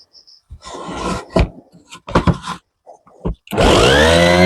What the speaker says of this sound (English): I'm just going to give everything a really good sand down